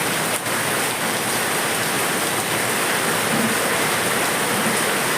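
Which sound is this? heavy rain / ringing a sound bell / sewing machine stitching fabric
heavy rain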